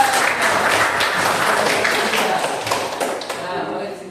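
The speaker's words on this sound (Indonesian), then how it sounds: "Oke, anak-anak Jihan, tepuk tangan dulu" Schoolchildren in an Indonesian classroom clap together for a classmate named Jihan, a dense, steady patter of many small hands lasting several seconds, close and fairly loud, with a few voices mixed in and the clapping thinning toward the end.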